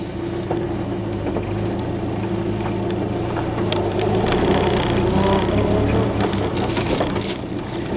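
A car with a 2.0L Zetec engine and a modified MAF housing drives on a short test run, a loud, close, rumbling engine and road noise with rattles and knocks throughout, the motor swelling midway, no talk.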